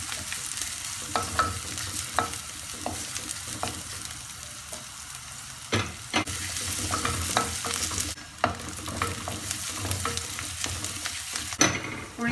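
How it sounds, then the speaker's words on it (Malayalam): Chopped shallots for a spicy Malabar prawn curry sizzle in a pan, with steady frying and repeated spatula scrapes and clicks as they are stirred. "ചെറുള്ളി ചേർത്ത് നന്നായിട്ടൊന്ന് വഴറ്റി കൊടുക്കാം"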